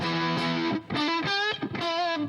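An electric guitar played through a tube drive overdrive pedal rings out in sustained, distorted chords and notes, loud and alone, with a few short gaps between phrases.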